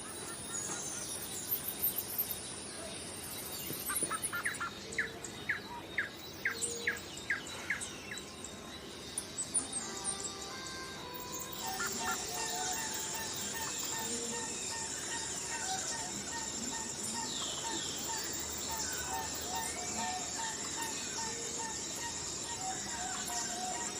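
Outdoor nature ambience of chirping birds and insects, with a run of quick repeated bird calls early on and a steady high insect or cricket drone through the rest, moderately faint and steady.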